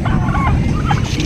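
Turkeys over four months old gobbling nearby, a brief loud cluster of warbling calls over a low rumbling background.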